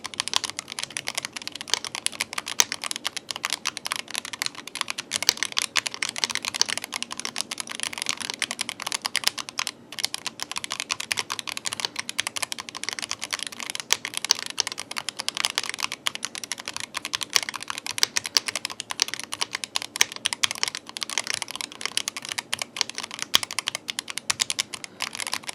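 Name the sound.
typing on YUNZII RT75 magnetic mechanical keyboard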